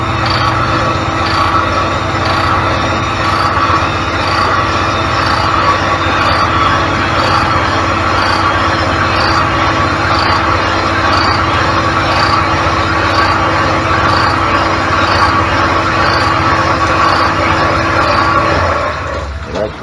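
A boring machine cuts into a small golf cart engine block, making a loud, steady mechanical drone with a constant pitched whine that holds unbroken for nearly twenty seconds before cutting off.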